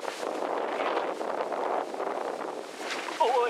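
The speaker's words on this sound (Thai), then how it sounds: "ลมแรงครับ" Strong wind gusts hard against the microphone outdoors near coconut trees, a rushing, fluctuating roar that swells and dips for several seconds without pause.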